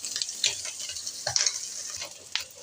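Small puti fish frying in a pan of oil, with a close, moderate sizzle and crackle. Scattered bursts of spatter and stirring noises come through over about two and a half seconds.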